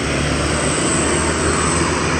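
A loud, steady engine drone rumbles close by, a Sinar Tapanuli medium bus running continuously near a toll gate with no voices.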